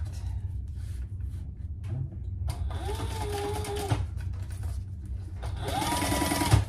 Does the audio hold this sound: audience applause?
no